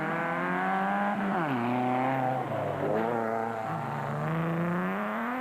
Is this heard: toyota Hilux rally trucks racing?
yes